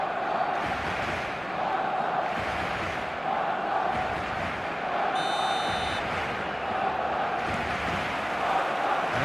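Stadium crowd in the eFootball video game on match day, a dense continuous roar of many voices with chanting swells and a brief electronic tone midway.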